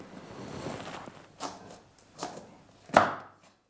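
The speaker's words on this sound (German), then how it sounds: "Wir halbieren jetzt erstmal den Kürbis, holen dann die Kerne raus und anschließend wird es dann gewürfelt." A knife cuts a pumpkin in half for vegetarian soup, giving a rough scraping stroke followed by three separate thuds on the board, the last one sharpest and loudest, all close by.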